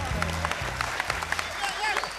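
An audience at a singing competition applauds a singer with a steady patter of many hands at moderate distance, while a low voice speaks over the clapping.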